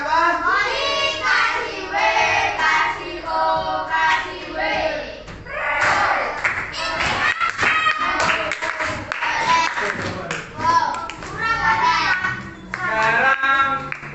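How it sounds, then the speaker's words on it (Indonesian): Children clap their hands in a primary school classroom, with bursts of uneven, close clapping mixed with voices and thumps from the room. "Kita kasih tepuk tangan."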